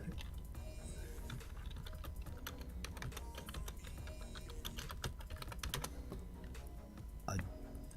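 Close, busy typing on a computer keyboard, a rapid irregular patter of key clicks over a low background hum, with no one talking.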